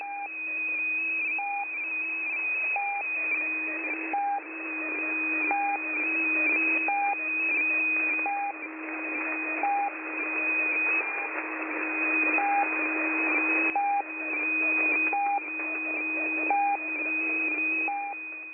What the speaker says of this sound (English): Let's head over to 6230 kHz USB and this new beeping marker that appeared.